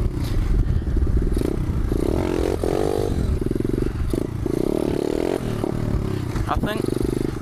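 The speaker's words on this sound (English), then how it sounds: "I want to try to learn to wheelie with my feet up and using a back brake." A pit bike engine revving hard and dropping back as the rider tries to wheelie, loud and close with a buzzing, uneven throttle rising and falling over several seconds.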